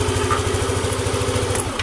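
A Yamaha Vixion motorcycle engine runs close by with a steady, even low throb, settling into a smooth idle with no gaps or revving.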